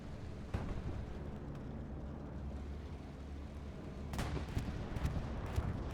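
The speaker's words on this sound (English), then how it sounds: "Whose bombing run is that? It's a TL bombing run." Distant bombing run in the Hell Let Loose game: low rumbling booms and a few sharp explosive cracks over a continuous battlefield drone, growing louder and denser toward the end.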